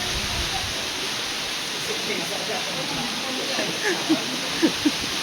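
Heavy typhoon rain and rushing floodwater around a trading post, a dense continuous roar close by, with a few faint splashes and knocks near the end.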